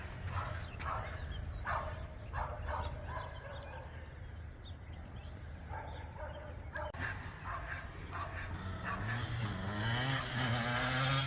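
A dog barks repeatedly in short bursts against a steady background rumble of engine noise, with people talking intermittently.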